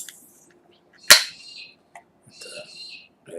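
A big can of Germania Premium Pilsner cracked open, one sharp, loud pop and hiss followed by fainter fizzing and small rustles, close up and with no speech over it.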